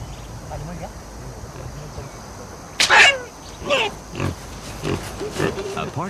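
Domestic pig raised by a Yali woman in Irian Jaya giving a few short snorting grunts close by, scattered over a steady outdoor background while people talk.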